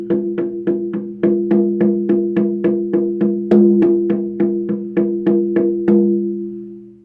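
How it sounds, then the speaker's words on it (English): A 10-inch deer hide spirit drum with a four-directions handle struck in a steady run of about twenty resonant beats, each with a humming ring that sustains and fades at the end, close and loud, with no voices. "It is a deer spirit drum with the 4 directions handle."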